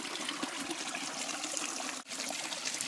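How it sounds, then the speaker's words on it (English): Water spilling over the top of a micro hydro intake in Colorado, a steady broadband trickling and rushing that runs continuously and fairly close, with one very brief dip near the end and no talking. "So here's the water draining over the top"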